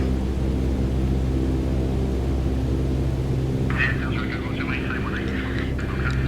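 A light aircraft engine in Microsoft Flight Simulator 2020 holds a steady, loud droning hum with a low rumble throughout, and a voice comes in over it during the second half.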